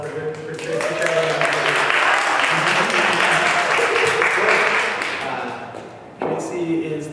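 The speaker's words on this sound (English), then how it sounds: "can we just get a round of applause for Tracy traveling?" Audience applause at a talk welcoming the executive director of Media Alliance, steady dense clapping that fills the room for several seconds, with voices and harmonic tones running underneath, briefly dipping near the end before resuming.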